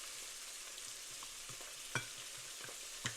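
Canned mackerel fillets sizzle faintly in a frying pan with a constant hiss, broken by a few soft scrapes and taps as they are nudged around.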